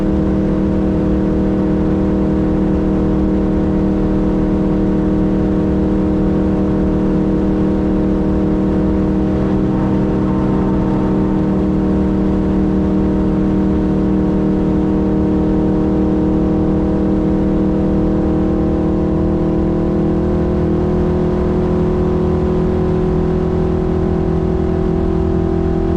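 Factory Five car at 160 to 165 mph on an open-road race course in the Silver State Classic Challenge, a loud steady high-speed engine drone with harmonic whine holding throughout, no talk.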